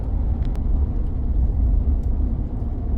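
A Ford F150 truck engine rumbles low and steady as the gas pedal is released, heard from inside the cab, continuous and fairly loud with no voices.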